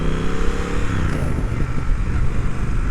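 A Triumph Speed Twin motorcycle engine runs steadily during riding, a loud, continuous low rumble with a throb that holds at a constant level throughout and no speech over it.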